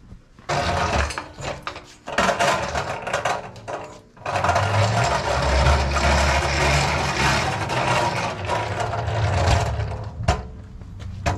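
A Badland off-road jack lifts a machine, a loud whirring motor drone that starts and stops, pauses briefly, then runs steadily for several seconds before winding down.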